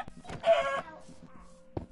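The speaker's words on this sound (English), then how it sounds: "Look at the chicken that is jumped in here." A chicken gives a short, close cluck, then a brief squawk after a pause, fairly loud against a quiet background.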